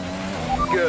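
Formula 1 race car engines in an F1 video game roar through a quick pass, with pitch sweeping up and down as one car overtakes another, under continuous speech.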